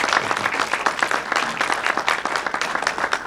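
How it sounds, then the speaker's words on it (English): An audience at a real estate summit gives a round of applause for a special guest, a loud, dense and continuous patter of many hands clapping at close range with no pauses. "Just give a round of applause."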